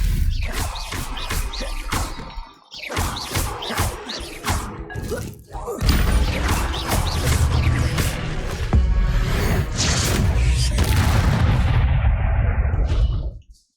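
Spellcasting in Hogwarts Legacy as a Stupefy spell fires and strikes, bursts of sharp cracks and thuds in a busy combat exchange that turns into a dense run of impacts before cutting off.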